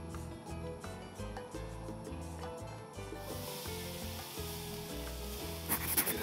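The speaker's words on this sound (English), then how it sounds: "We're just gonna throw this skirt steak on." Skirt steak dropped onto a hot grill pit starts a steady, fairly quiet hiss and crackle of sizzling meat, continuing unbroken under low background rumble.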